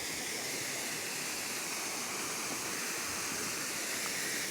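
A waterfall beside the last mill on a river in Villaviciosa, Asturias pours in a constant broadband rush, steady and unbroken, heard fairly close with no voices over it.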